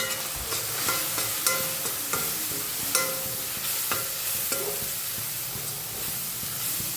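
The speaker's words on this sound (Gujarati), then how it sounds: "બસ ડુંગળી આપણી સોતે થઈ ગઈ છે." Onion and spices such as red chili powder, coriander-cumin, turmeric and asafoetida sautéing in a pan, a steady close sizzle with repeated spatula scrapes and taps.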